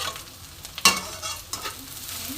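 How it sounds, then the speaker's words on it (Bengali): Onions sizzle loudly in hot oil with salt and turmeric, a close, continuous frying hiss broken by stirring scrapes and a sharp clatter near the start. "পেঁয়াজটা ভালো ভাজা হয়ে গেছে, লাল হয়ে গেছে অনেকটা।"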